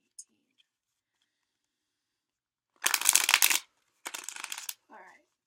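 Tarot cards are shuffled and pulled in two short, crisp bursts of riffling after a quiet pause, followed by a soft murmur.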